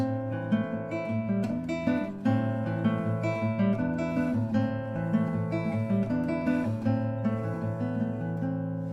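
Plucked classical guitar notes and chords in a steady, repeating rhythmic pattern, played close and clear with no voices.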